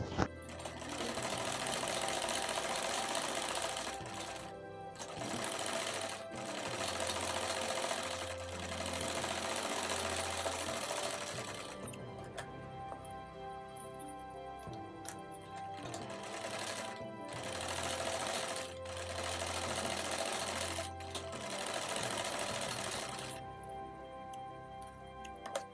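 Sewing machine stitching the seat seams of a ladies' suit, running in steady rapid ticking bursts of several seconds separated by short pauses, close and clear with almost no talk.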